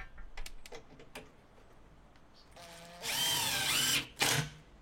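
Power drill driving screws into thick, unusual wood while fitting out a van kitchen, a few light taps and clicks leading into a loud close whirring run with rising pitch, then a short final burst.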